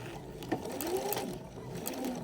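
Sewing machine stitching slowly over pinned elastic ear loops on a pleated fabric face mask, a steady close mechanical whir running throughout with a small bump partway.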